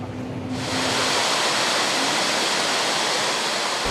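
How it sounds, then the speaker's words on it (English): Rushing creek waterfall in Pennsylvania's Appalachian hills: a loud, steady roar of cascading water that starts suddenly after a brief quieter moment and continues unbroken. "Frank Lloyd Wright saw this natural rock, saw this creek"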